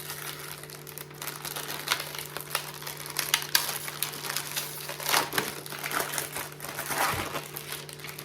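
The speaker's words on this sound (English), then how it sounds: "we're going to go ahead and open up the Nutter Butters" Nutter Butter cookie package torn open on a sheet of parchment paper, giving steady crinkly plastic rustling and crumpling with a few sharper crackles, close and moderately loud over a faint background hum.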